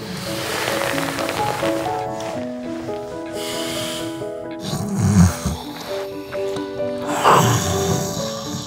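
A person snoring in bed, heard as two rough, rasping breaths a couple of seconds apart, moderately loud over soft background music.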